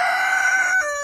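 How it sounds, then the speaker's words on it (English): A rooster crows in a backyard chicken shed, one close, loud, drawn-out call that bends to a lower pitch near its end. "If you want to now see the other rooster's crowing behind me."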